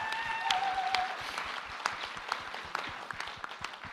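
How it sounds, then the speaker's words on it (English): A summit audience of tribal leaders claps steadily for several seconds, a dense patter of many hands with a few sharper individual claps standing out, moderately distant and fading slightly toward the end. "Please give Catherine a round of applause for all of her work."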